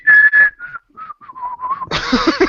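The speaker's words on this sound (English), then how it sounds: "were you whistling the Top Gear theme there, by any chance?" Someone whistles the Top Gear TV theme tune up close, a few clear phrases with brief pauses, then a burst of louder broadband noise at the end.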